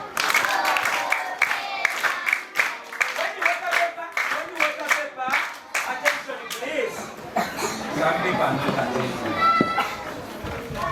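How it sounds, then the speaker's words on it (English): Children in a primary school science class clap together on request, bursts of close, uneven clapping mixed with a teacher's voice and some chuckling, ending in a denser spell of applause. "Can you clap him?"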